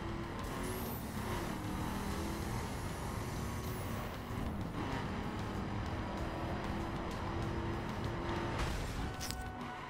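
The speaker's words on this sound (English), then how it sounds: "Damn, the drifts are hard." A car drifting in the racing game The Crew, a steady loud engine roar with shifting revs and faint tire squeal sweeps over continuous road noise, no voices.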